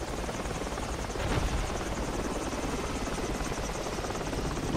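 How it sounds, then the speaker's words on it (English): Enemy helicopter in the military shooter Battlefield 2 Project Reality, a steady loud rotor drone that fills the whole stretch with continuous chopping buzz and no speech. "Enemy chopper."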